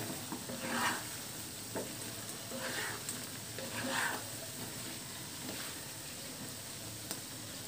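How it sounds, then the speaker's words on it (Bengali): Olives being stirred with spices in a frying pan for a sweet-sour pickle, a steady soft sizzle broken by repeated scraping strokes of a spatula, fairly quiet and close. "এবার সবগুলো উপকরণ জলপাইয়ের সাথে ভালোভাবে মিক্সড করে নিব"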